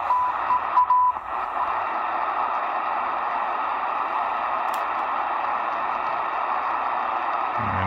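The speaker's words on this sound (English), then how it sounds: "this is an example of decoding Morse code here with an app" A Degen DE1103 shortwave receiver picks up computer-sent Morse code: a short run of even, steady beeps at the start, then a continuous band of radio hiss and static for the rest.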